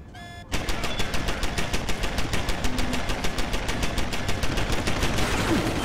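A big gun fires in the video game Deus Ex: Human Revolution. After a short lead-in, a rapid, evenly spaced burst of loud shots runs continuously, machine-gun style, over an engine-like rumble.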